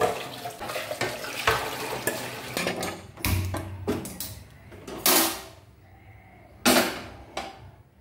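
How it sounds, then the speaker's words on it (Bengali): A milk pot and other dishes being scrubbed at a running kitchen tap, with irregular clatters and splashes of water, close and fairly quiet with no talking. "তো আগেই দুধের পাত্রটাকে মেজে নেব, মেজে এটাতে দুধ বসিয়ে তারপরে বাকি বাসনগুলো মাজবো"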